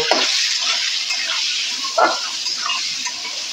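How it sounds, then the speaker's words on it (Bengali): Ghugni of peas and potatoes is stirred with salt in a pan, a wet, sloshing scrape with a few louder spoon strokes against the metal over a low background hiss, close and without talk. "ভালো করে নেড়ে চেড়ে নেব।"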